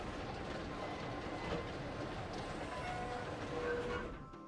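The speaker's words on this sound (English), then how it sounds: "It's a subway. It's a political movement. It's a subway and a political movement. Sounds like it's still operational, too." Subway train in the video game Zork: Grand Inquisitor rumbles and clatters steadily along the rails, with a few faint squealing tones over the continuous low roar.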